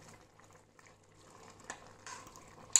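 Lentils with tomatoes simmering in a pot: faint soft bubbling, with a couple of louder scrapes and clinks near the end as the mix is stirred.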